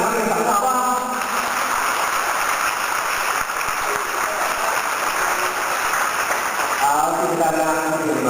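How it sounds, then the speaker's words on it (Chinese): Audience applause for students at a school gathering, a dense, continuous roar of clapping from the crowd lasting several seconds, with a voice speaking over it at the start and again near the end. "我们大家给他们掌声好不好？"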